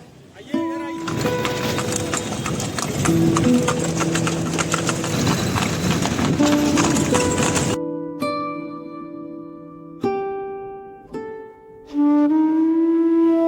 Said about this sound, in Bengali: ঘোড়ার খুরের আওয়াজ আর এই পুরনো শহর জাস্ট অসাধারণ লাগছে